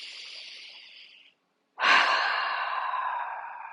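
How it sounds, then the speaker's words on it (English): A strong exhale during a breathing exercise for waking up the abs: a soft breath trails off, a brief silence, then a loud, forceful, sustained breath out close to the listener. "Nice strong breath."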